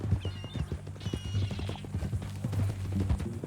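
Horse hooves clip-clop in steady rhythm in Red Dead Redemption 2, close and fairly loud, with a brief whinny-like squeal near the start and another around one second, over a low ambient hum.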